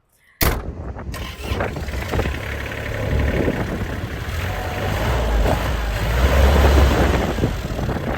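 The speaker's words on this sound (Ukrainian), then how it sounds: "Зараз заведемо тракторця, покажемо, як він заводиться, як він працює." A Kubota GL-25 compact tractor's small diesel engine cranks and catches with a sharp burst, then runs steadily with a rough, chugging rumble that grows slightly louder.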